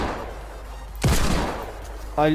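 Two loud, sharp Desert Eagle pistol shots ring out in the Zula video game, the first booming with a short tail and the second arriving about a second later, with low voice chatter underneath.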